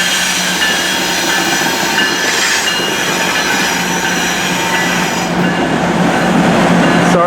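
BC Rail locomotive 4649 hauls an intermodal freight train past at night in New Westminster, a loud steady rumble of rolling wagons with faint wheel squeal throughout and no talk.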